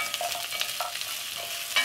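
Ingredients for a Japanese hibachi clear soup stirred in a hot pan, a soft continuous sizzle with light scraping strokes throughout, moderately quiet and close, no voices.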